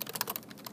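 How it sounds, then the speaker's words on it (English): Quiet, quick keystrokes on a computer keyboard during office memo typing, a short flurry of light clicks including presses of the enter key, no voices. "I'll press enter twice."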